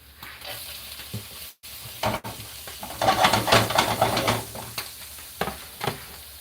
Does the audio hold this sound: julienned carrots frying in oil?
yes